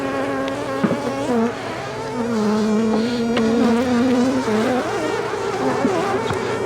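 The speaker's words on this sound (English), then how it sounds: "so that I can put that box on there without squishing a million bees" A swarm of honeybees being moved in a garden cart gives a loud, close, continuous droning buzz that fills the whole stretch, with individual bees flitting past.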